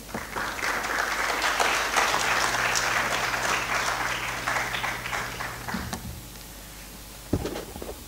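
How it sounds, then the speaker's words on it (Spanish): An audience at an academic seminar applauds a guest speaker with dense, sustained clapping that holds for nearly six seconds, then drops away abruptly, leaving a quiet room with a faint knock. "Un aplauso, por favor."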